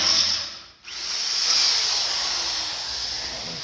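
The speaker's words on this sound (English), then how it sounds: "I recommend you drill 1 hole, so let's drill 1 hole." A power drill bores a hole through the steel frame of an S10 truck, a loud, steady high whine that briefly dips and then grinds on continuously up close.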